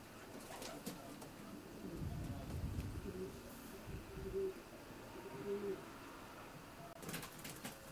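Prize-winning racing pigeons in a loft give soft, low cooing calls, several overlapping throughout amid faint rustling background, close and moderately quiet with no talk.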